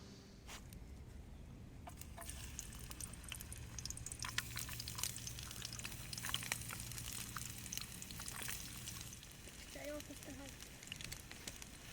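Cooking oil poured into camping cookware outdoors, a faint liquid trickle against steady wind and outdoor noise, with a few brief clinks along the way.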